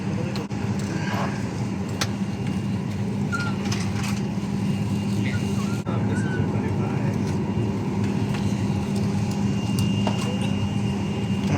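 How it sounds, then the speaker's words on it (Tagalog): Steady low cabin roar of an Air China airliner in flight on a route to Beijing, a constant engine and air hum filling the background with faint scattered clicks and no clear talking. "Sakay kami ng Air China Airline."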